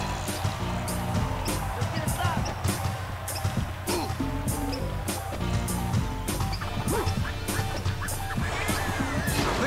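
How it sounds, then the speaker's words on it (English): Geese honk in the NBA Street Vol. 2 basketball video game, close and fairly loud in a dense, unbroken mix of game music, crowd noise and ball bounces, lasting about ten seconds. "The geese are from the ticket line."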